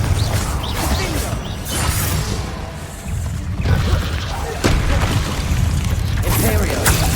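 Confringo blasting spells in the Hogwarts Legacy video game crack and boom in repeated loud bursts with whooshing impacts, amid chaotic combat noise.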